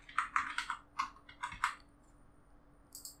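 Quick, light clacks from typing on a computer keyboard, arriving in a short irregular burst of keystrokes, then a pause and a few more taps near the end, close and fairly quiet.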